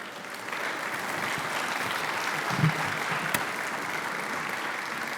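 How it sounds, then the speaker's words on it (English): Applause from the audience at a hall of fame induction ceremony, welcoming two inductees; a steady, even wash of clapping that runs the whole time without a break, with no voices over it. "let's give them a welcoming round of applause for Joe and Kyle"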